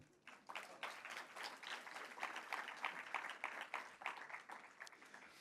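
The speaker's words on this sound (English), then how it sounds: "You may applaud." Audience applause fills a venue at a New York City evening talk event, a dense steady patter of many hands clapping at moderate distance, continuing without a break and without talk.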